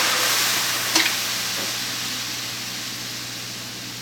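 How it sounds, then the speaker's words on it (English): Maple syrup and orange juice sizzle in a hot pan with a steady, close frying hiss, and one brief clink partway through. "now we're just going to go ahead and add the maple syrup and orange juice to this pan"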